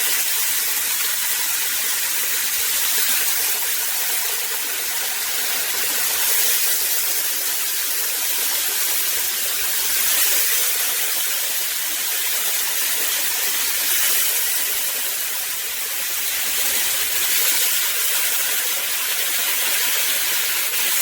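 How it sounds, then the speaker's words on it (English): Chicken pieces dropped into a pot of browned, caramelized sugar for stewed chicken, giving a loud, continuous, even hiss of frying that holds steady with no talking. "So I'm going to go ahead and start adding the chicken."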